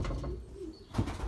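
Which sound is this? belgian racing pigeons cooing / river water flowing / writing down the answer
belgian racing pigeons cooing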